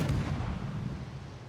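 Naval gunfire from a Shimakaze destroyer in the World of Warships video game: a single heavy boom at the start that rolls off into a decaying rumble, fairly loud and with no voices over it.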